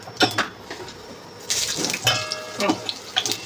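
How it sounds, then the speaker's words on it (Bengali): Raw mango pieces are dropped one by one into hot oil, each landing bringing a short burst of crackling sizzle and splashing, several bursts spread across a few seconds. "কাঁচা আমগুলোকে এই তেলের মধ্যে ছেড়ে দেবো"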